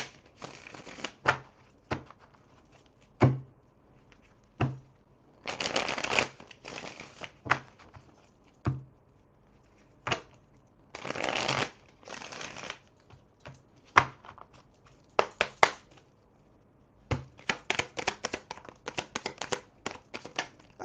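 Tarot cards being shuffled during a reading, with repeated bursts of riffling and flicking separated by short pauses, close and moderately loud, with no talking.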